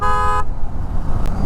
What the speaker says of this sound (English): See the traffic here?